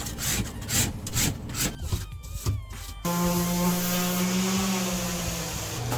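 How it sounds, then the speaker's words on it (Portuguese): A spatula scraping residue off a steel pedal load cell part, harsh rhythmic rasping strokes up close, then a steady droning motor hum with a tonal whine takes over for the last half. "Então vou terminar de raspar aqui e passar a rota orbital e lixar rapidinho."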